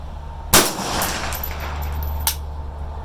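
Subsonic Brown Bear 7.62x39 196-grain rifle round fired from an OPAP with a muzzle brake, one sharp, fairly muted crack followed by a short metallic clatter of the action about 1.7 seconds later, outdoors.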